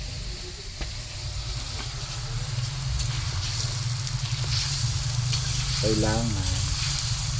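A second batch of chicken frying in plenty of oil at an eatery, a steady close sizzle and crackle, with a brief spoken word and faint background voices.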